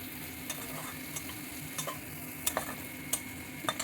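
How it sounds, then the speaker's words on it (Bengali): Chopped tomato frying with ginger in a pan, a steady close sizzle broken by several sharp spoon-stirring clinks at irregular intervals. "এদিকে একটু ভেজে নেব তারপর দেখো একটা টমেটো আমি কুচি করে রেখেছিলাম টমেটোটা দিয়ে দিলাম"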